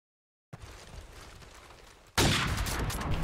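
Gunfire in Call of Duty 4 during a tournament match starts with a quiet stretch of game ambience, then erupts into loud, dense, sustained shooting from close by.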